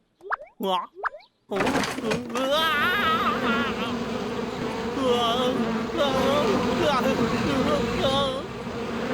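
A dense cartoon swarm of bees buzzes loudly and steadily up close, preceded by a few short springy boing-like sounds.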